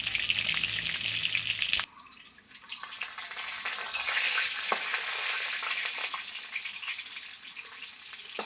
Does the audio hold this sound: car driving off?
no